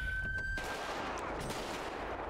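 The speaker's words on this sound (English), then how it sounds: "Okay, so I'm shooting at my vehicle again." Rapid gunshots aimed at a vehicle in the FiveM police roleplay game, a loud, dense spray of shots running for a couple of seconds with no talking.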